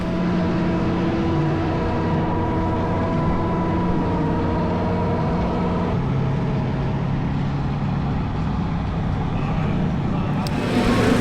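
Support division race cars circling the dirt track at Silver Dollar Speedway in Chico, a continuous droning engine roar with steady harmonic tones and a shift partway through, loud and sustained with no talk.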